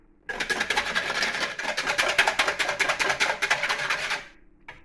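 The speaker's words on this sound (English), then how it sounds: "Let's go whisk it. Let's put the whisk in there." A whisk beats celery mayonnaise in a bowl, giving rapid, rhythmic scraping strokes that run steadily for about four seconds at close range, then stop abruptly, with no talking.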